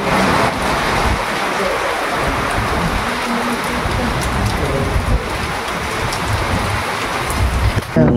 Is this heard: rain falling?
yes